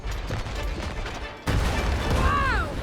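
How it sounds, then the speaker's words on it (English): Fireworks burst in the video game It Takes Two, rapid crackling pops and bangs in a dense barrage, with a whistling rise near the end. "Oh, it's a lot of fireworks."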